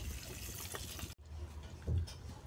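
White cooking oil pours into a wok beside melting butter, giving a soft, quiet liquid trickle and glug that rises briefly near the end.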